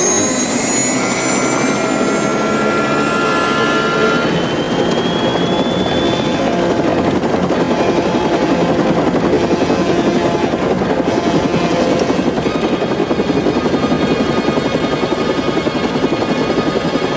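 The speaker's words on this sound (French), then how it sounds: "L'hélico vient d'être détourné!" A helicopter roars overhead during a hijacking, its engine whine and rotor thrum loud and continuous throughout, with a high turbine pitch sliding downward early on.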